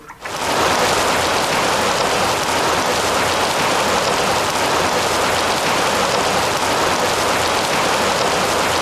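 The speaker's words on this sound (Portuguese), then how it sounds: "a água da chuva corre dos telhados para o piso das casas e daí para a rua" Heavy, steady rainwater pouring off house roofs onto the ground, a dense continuous rush of falling and splashing water that starts abruptly and stays loud throughout, with no voices.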